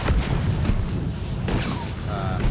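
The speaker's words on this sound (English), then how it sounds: "constant explosions behind me." Explosions in the video game Deep Rock Galactic, several dull booms and bursts following one another in a dense, rumbling stretch with no clear talk.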